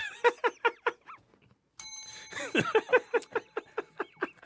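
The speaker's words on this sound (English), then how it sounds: "And there's the bell" A bell rings once with a bright sustained tone while a group nearby bursts into rhythmic laughter and clapping that carries on around it.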